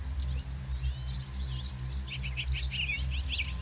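Birds chirp and whistle in a forest at midday, bright repeated calls rising over a steady low hum, with livelier bursts of song toward the end.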